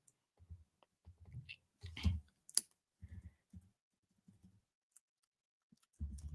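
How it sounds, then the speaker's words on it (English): Computer keyboard keys are pressed in a quiet room, producing a scattered series of soft, close taps and clicks with a few slightly louder strokes and short pauses between them. "press the T on your keyboard"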